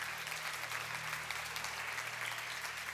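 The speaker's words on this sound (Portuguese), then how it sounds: "Você pode dar uma salva de palmas" A church congregation claps steadily and continuously, the applause filling a large room.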